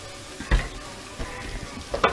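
Onions, garlic, ginger and pepper frying in a pan for keto drunken chicken, giving a quiet steady sizzle with a few soft stirring clinks and taps.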